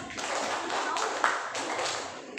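A rhythmic clapping pattern in a classroom coaching exercise, with counted claps in groups: several soft, sharp claps spaced through the stretch, fairly close and quiet, with faint voices in the background.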